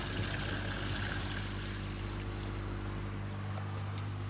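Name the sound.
water draining from a barrel filter system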